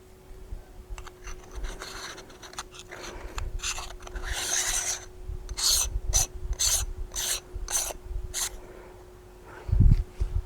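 An ND16 filter being screwed onto a camera lens, close, faint scraping and ratcheting clicks of metal threads in short bursts, with a low steady hum underneath and a soft thump near the end.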